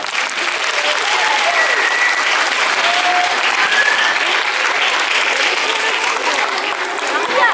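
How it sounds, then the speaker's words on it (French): An audience at a school presentation by CM1–CM2 pupils of école Rabelais applauds warmly, with loud, continuous clapping throughout and a few faint voices underneath. "C'est à eux, on les applaudit."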